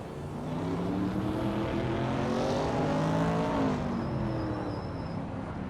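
Racing video game cars led by a classic 1971 Porsche 917/10 on the Blackwood GP Reverse circuit, engines droning and revving together with steady, loud pitch sweeps as the pack runs close, no talk.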